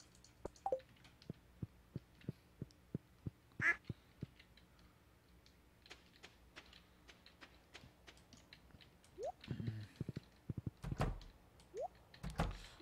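Ducks quacking in the farming video game Stardew Valley, a few short quacks spaced apart amid a steady run of soft clicking game sounds, fairly quiet with no talk.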